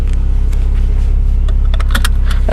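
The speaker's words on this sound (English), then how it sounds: "Let's turn the car on now." A Porsche 911 Targa 4 GTS starting up from inside the cabin, a brief electric whir and clicks over a loud steady engine hum, close and continuous with no talking.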